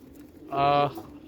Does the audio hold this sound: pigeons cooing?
yes